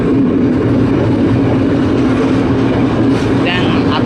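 A passenger train runs along the Puttalam line in Sri Lanka, its loud, steady low rumble filling the whole stretch without a break, heard from on board or close by.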